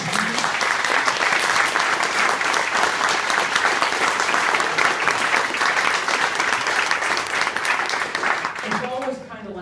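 An audience at a live reading in a London bookshop breaks into sustained, dense applause that stays loud for several seconds, then quickly tapers off.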